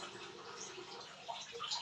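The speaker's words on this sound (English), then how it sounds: "All I need is just to add water, just enough to cover it" Water poured into a pot of beans being readied for gbegiri soup, a soft continuous splashing trickle, faint and steady throughout.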